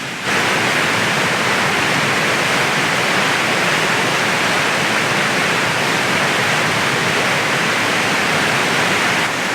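A river flowing close by, heard as a loud, constant broadband rush of water that begins almost at once and stays even throughout, with no voices over it.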